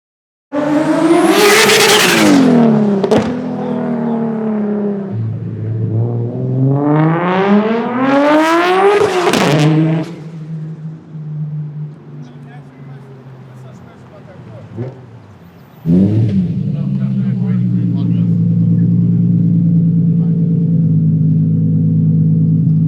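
A Nismo R34 GTR fitted with a Z-Tune kit revs hard twice in loud, rising sweeps, then settles into a lower engine drone that surges again into a sustained, heavy rumble.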